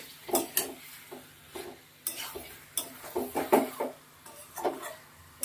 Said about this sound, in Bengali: এখন মশলার সঙ্গে আলুটা মিশিয়ে দিলাম ভালো করে নাড়াচাড়া করে